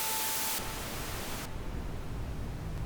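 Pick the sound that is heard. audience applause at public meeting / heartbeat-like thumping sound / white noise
white noise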